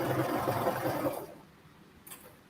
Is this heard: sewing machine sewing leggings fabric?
yes